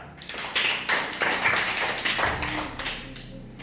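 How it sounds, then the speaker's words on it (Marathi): A first-grade class at a village school in Manegaon claps together, a steady patter of many small hands for a few seconds with no talking. "टाळ्या"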